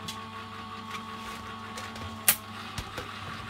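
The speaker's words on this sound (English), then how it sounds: "we're just waiting for that to run through the die cutting machine" A Gemini die cutting machine feeds a card-making plate sandwich through its rollers, producing a steady low motor hum with faint mechanical ticks and one sharp click, close by and without talking.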